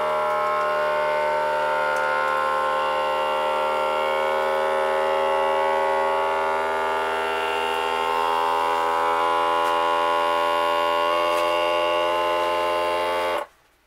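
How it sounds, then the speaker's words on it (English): A vacuum sealer's pump drones with a steady, buzzing hum for a long stretch while packing food, then cuts off abruptly at the end. "Now again, I'm going to hit vacuum and seal."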